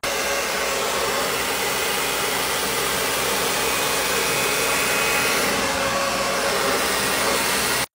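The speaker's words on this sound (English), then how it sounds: "Absolutely love the dry bar blow dryer, and I'm gonna use a round brush." A Dry Bar blow dryer runs steadily as a round brush works through hair, giving an even, loud whooshing roar that holds for the full length and then cuts off abruptly at the very end.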